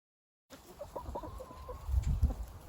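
Backyard chickens clucking and murmuring softly at close range after a short silence, with low rustling and scratching as they pick through dug-up strawberry leaves and garden leftovers.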